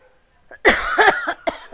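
One sharp, throaty cough, then a brief second hack, close and fairly loud after a short quiet moment.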